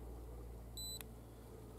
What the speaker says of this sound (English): Push and hold till you hear another beep